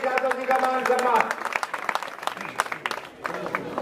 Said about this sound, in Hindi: आगे बोलो जोरदार तालियां बजाए सारे साथी